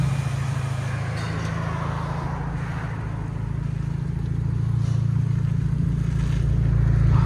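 Exhaust of a Genesis G70 with the 2.0L turbo engine: a steady, loud, low droning rumble that holds for several seconds and builds slightly toward the end.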